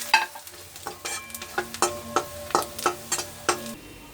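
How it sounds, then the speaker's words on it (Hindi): Ground spices such as garam masala, red chili, turmeric and coriander fry in a pan, with a faint sizzle under a series of rhythmic metallic taps and scrapes of a spoon stirring, close and without talk. "मसाले फ्राई हो चुके हैं।"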